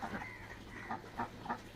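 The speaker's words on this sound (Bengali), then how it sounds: "হাঁস আসলে হলো 9টা" A small flock of nine domestic ducks at a rural home gives a few short, faint quacks in a quick irregular series against quiet background.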